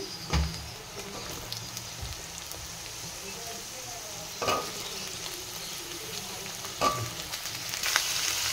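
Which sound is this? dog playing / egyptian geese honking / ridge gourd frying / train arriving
ridge gourd frying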